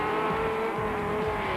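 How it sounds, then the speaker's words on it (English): A race car in a 1997 Super Series race goes by with a steady, loud engine drone that holds throughout, with rough low rumbling beneath it and a hint of tyre scrub. "Unfortunately, Warren Klaasen rolled his car and the race had to be stopped."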